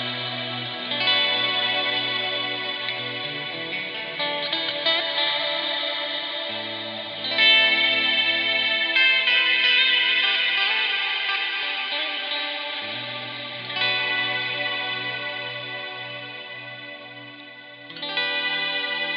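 An electric guitar played through a Victory VX Kraken amplifier on a clean setting gives a bright, chimey tone. Sustained strummed chords ring out for the whole stretch, close and steady, with a shimmering, effect-like quality.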